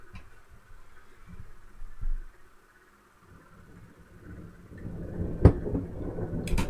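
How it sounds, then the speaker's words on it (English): A serious spring thunderstorm, with faint distant rumbles that swell into a deeper, louder roll of thunder and a sharp crack near the end, heard alone at a low level. "You guys can hear that? A serious thunderstorm."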